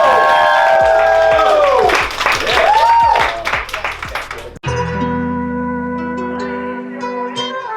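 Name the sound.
audience applause for the mastermind coach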